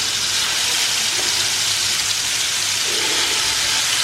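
Marinated soya chaap fries in a little oil in a pan, giving a loud, steady sizzling hiss that stays constant throughout with no pause.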